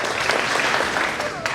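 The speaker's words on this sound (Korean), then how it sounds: "우리 최현일 부청장님을 큰 박수로 모시겠습니다" Applause from the audience at a community evening event in Yeongdeungpo, Seoul, a steady wash of clapping lasting the whole moment, close and fairly loud, with a voice talking over it.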